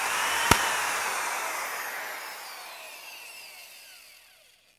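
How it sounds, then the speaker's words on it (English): A power drill bores a hole into a Hutch equalizer, starting with a sharp tap and then a whining, grinding spin that gradually fades away over several seconds. "that's where we're going to drill our hole"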